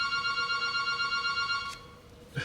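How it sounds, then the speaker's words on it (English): An office telephone rings close by with a steady electronic trill that cuts off partway through, followed by a brief click, with no talking. "that's why the phone is ringing right now"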